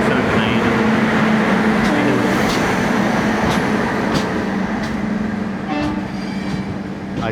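A freight train hauled by twin G9 locomotives rolls past with a loud, continuous rumble and rattle of wagons that eases slightly toward the end.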